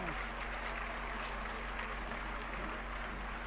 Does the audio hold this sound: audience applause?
yes